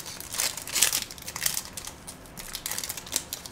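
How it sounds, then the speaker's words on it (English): Close, busy crinkling of plastic wrapping on Pokemon Sun and Moon booster packs, irregular bursts of crackly rustling coming and going throughout with no talking. "We got crinkly plastic everywhere."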